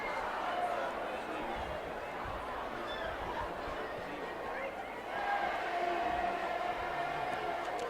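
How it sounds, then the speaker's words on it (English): A high school varsity football crowd in the Papillion La-Vista Monarchs stands chanting together at the start of the fourth quarter, a dense, steady roar of many voices that swells louder around the fifth second. "Monarch crowd doing their "Hey baby" to start off the fourth quarter"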